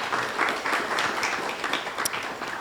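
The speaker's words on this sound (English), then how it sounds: "I think applause is for Daniel." Brief audience applause at an exhibition preview event, a steady dense patter of many hands clapping at moderate level throughout, with no talking over it.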